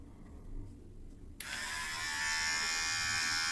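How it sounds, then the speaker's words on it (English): An electric hair trimmer switches on after a moment of near silence, then gives a steady, close, high buzzing hum as it cuts hair during an at-home buzz cut. "I just trim it with a trimmer, much easier"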